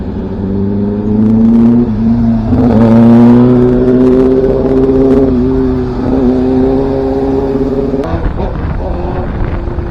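Loud motorbike engine revving and roaring past close by, a strong rising and falling drone that peaks mid-way, with a second surge near the end.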